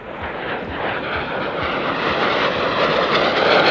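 A Mikoyan-Gurevich MiG-15 jet roars past at the Dunsfold Wings and Wheels 2018 airshow, a loud steady broadband rush that swells gradually as it approaches, with no voices.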